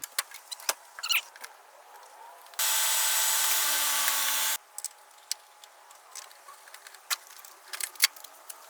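A power tool whirs steadily for about two seconds while a car's front bumper is being removed, with scattered clicks and taps before and after.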